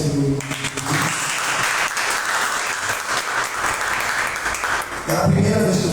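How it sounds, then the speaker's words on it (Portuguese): A church congregation applauds together during an evening worship service, a dense, steady wash of clapping that holds loudly for several seconds, with voices briefly audible near the start and a surge of cheering and talk at the end. "Aplauda o Senhor."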